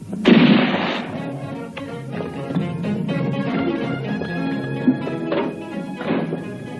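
Film gunfire rings out with a loud burst at the start, followed by a sustained rumbling barrage and scattered sharper shots, close and dense, with no talk.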